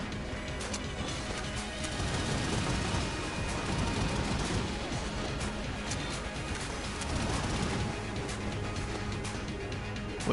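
Vulcan cannon in Enter the Gungeon firing nonstop, a dense, loud barrage of rapid shots with crashing impacts that keeps going without a break, with no talk over it.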